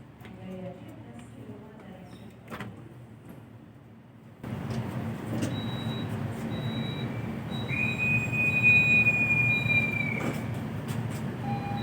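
Jayabaya train at Pasar Turi station as the driver sounds the horn signal before departure, a quieter platform bed giving way to a louder rolling rumble with a sustained tonal blast and intermittent beeping tones, talk audible early on.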